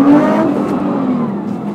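An 800 hp Nissan GT-R engine revs loudly from inside the cabin, a dense, steady roar that holds through a brief burst with a slight dip and rise in pitch.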